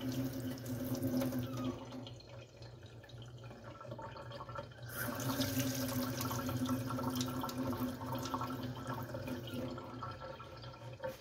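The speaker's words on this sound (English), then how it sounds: "now we'll turn the water back on, see if we're leaking" Water runs steadily from a newly repaired sink faucet into a sink, a continuous rushing splash with a brief dip partway through before resuming at full flow.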